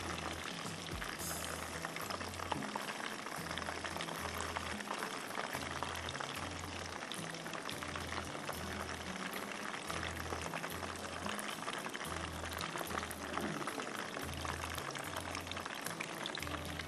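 Hot oil bubbles and hisses steadily while frying to a light golden colour for a crispy spinach chicken dish, with a low rhythmic thumping pulse running beneath the constant crackle.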